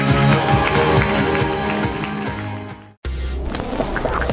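Guests applaud the birthday girl's father, mother and brother on a red carpet at an eighteenth birthday party at Castello Santa Caterina, the clapping and crowd noise mixed with loud music and cut off briefly by a pause.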